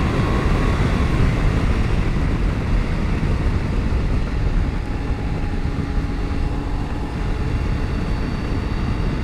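A Triumph Tiger 800 XCA motorcycle at full throttle in fifth gear from 6,000 rpm gives a loud, continuous roar blended with heavy wind rush, steady and unbroken throughout.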